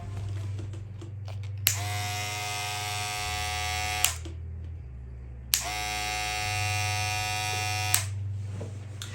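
An Apex hair clipper with loose internal parts runs in two buzzing bursts of about two seconds each, separated by pauses with a low hum. Each burst starts with a click, and the clipper sounds close and alone.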